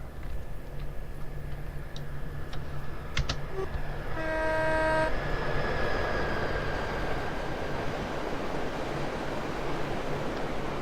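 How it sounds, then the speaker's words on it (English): Simulated train wagons rolling through a station on the Medway Valley Line in Train Simulator, a steady rumble with a brief rising series of horn-like tones near the middle, continuous and moderately loud with no talk. "So the wagon sounds are the default, I think the default sounds for these types of wagon"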